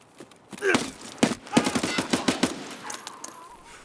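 Automatic weapon fire in the video game Escape From Tarkov: several close, loud bursts of rapid shots crack out in quick succession, then fade into quieter trailing pops.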